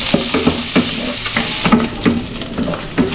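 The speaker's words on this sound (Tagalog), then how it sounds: "Gisa-gisa muna natin ito hanggang sa medyo mag light brown." Meat sautéed in a hot pan, a loud close sizzle broken by a quick regular rhythm of spatula scrapes and taps against the pan, no talking.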